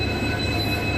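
A Madgaon–Sawantwadi passenger train on the Konkan Railway rumbles steadily at a station, with a continuous loud roll of wheels on rail and a thin, high squeal above it.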